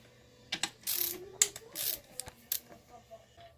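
A ratchet wrench loosening bolts during a teardown, giving several short bursts of clicking over a few seconds, close and fairly clear, with a little background noise.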